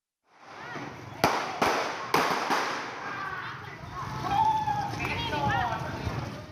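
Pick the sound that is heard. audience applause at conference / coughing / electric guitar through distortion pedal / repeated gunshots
repeated gunshots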